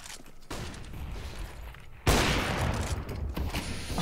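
Rapid gunfire bursts from a Counter-Strike esports match on the Cache map, a dense spray of shots that jumps sharply louder midway and continues as sustained close fire with no talking.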